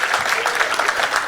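Applause from the audience for musicians who just finished performing a song, a dense, even patter of many hands clapping together, steady and fairly loud.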